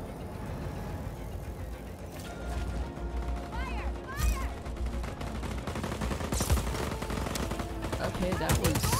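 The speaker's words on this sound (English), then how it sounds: "Who's shooting at me?" Gunfire in the video game Just Cause 4 rattles in rapid bursts against constant engine rumble and game noise, with a voice talking over the action.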